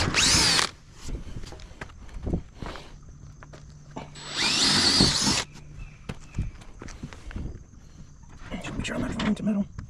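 Power drill driving into wooden trailer deck boards during a scrap trailer rebuild: two loud bursts of whirring drilling, with footsteps, tool clatter and people talking in between.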